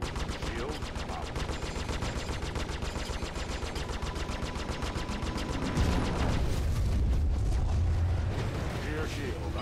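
Spaceship weapons fire from an Aegis Saber fighting a Vanduul swarm in a space combat video game, a steady rapid stream of shots throughout, joined by a deep rumbling blast partway through, with faint cockpit voice alerts.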